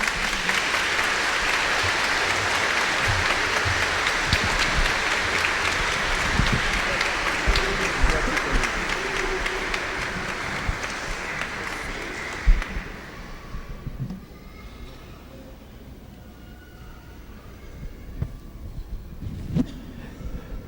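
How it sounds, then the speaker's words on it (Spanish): Congregation applauding in church during Sunday Mass to welcome catechumens, a broad sustained roar of clapping for about thirteen seconds that then fades out, leaving a quieter room with a few scattered sounds. "Un aplauso, hombre."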